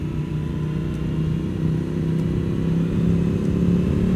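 A 2024 BMW M1000R motorcycle engine drones steadily while riding on an open road, a continuous loud mid-pitched hum with a slight rise in intensity toward the end and no voices.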